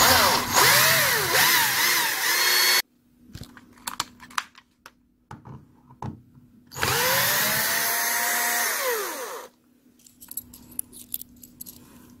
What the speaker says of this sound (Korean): 구멍 먼저 한번 뚫어주고